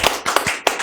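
A brief patter of a few hand claps welcoming a guest lecturer on a talk show, four quick separate claps close by.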